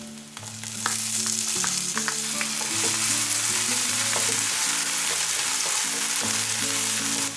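Chopped onion with ginger sizzling in a hot pan for a mushroom and vegetable stir fry, a steady loud frying hiss with occasional stirring clatter throughout, no talking.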